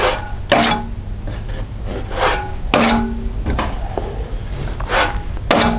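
Drywall knife dragging joint compound over a patch covering an old electrical outlet, repeated close scraping strokes in an uneven rhythm, each a short rasping swipe, with no talking.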